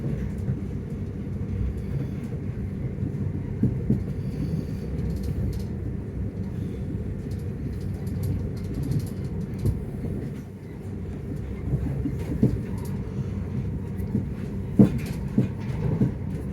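A Southern passenger train runs on the rails through suburban south London, a steady low rumble and rolling drone inside the carriage with occasional faint clicks and bumps, no voices.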